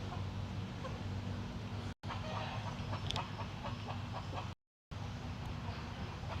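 Chickens at a botanical garden in Angkor give scattered clucks amid steady outdoor background noise, captured close to the birds with no clear talking.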